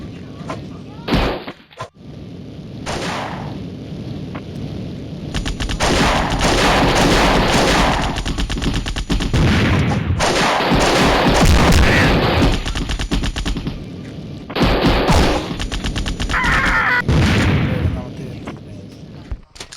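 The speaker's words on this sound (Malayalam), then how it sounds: "ഇവിടെ ഈ തോക്ക് കൊണ്ട് കളിച്ചിട്ട് വലിയ കാര്യം ഇല്ല ഗൈസ്" Gunfire from a video game weapon comes in loud bursts of rapid automatic shots and single cracks, separated by short pauses.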